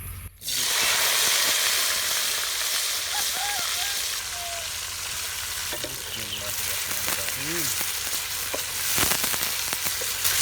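Onions fry in oil for fish biryani after the fish has been fried, with a loud continuous sizzle and stirring scrapes. Brief whistling and clatter can be heard in the background.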